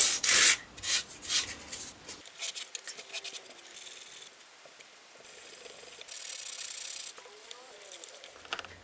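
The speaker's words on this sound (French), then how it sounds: "vous poncez avec un papier de verre assez fin quand même, tout doucement" Fine sandpaper worked gently over an old wooden frame makes soft, uneven scratching and rubbing strokes, quiet and close, with brief pauses between passes.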